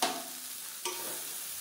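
Steady frying sizzle of tomatoes sautéing in a pan for chutney, with a brief scrape or stir partway through, close and continuous, no voices.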